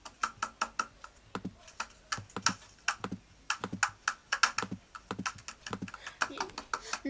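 In a blocky crafting video game, blocks are clicked and broken, giving a rapid series of short, sharp clicks in an irregular rhythm, close and fairly quiet.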